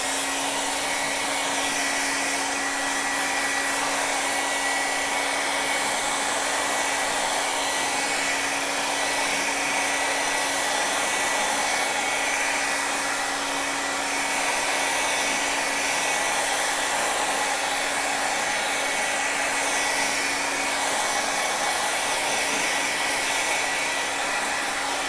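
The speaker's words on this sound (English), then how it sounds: "I'm going to hit mine with the blow dryer real quick and get this a little more dry" A blow dryer runs steadily to dry wet acrylic paint during an art class, giving a loud, constant whooshing hum with a fixed tonal whine that holds from start to finish.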